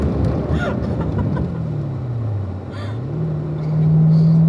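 Car with 650 horsepower braking hard on a freeway, a loud low rumble of road and drivetrain noise sweeping down in pitch and then back up as the car slows, with a brief voice near the end.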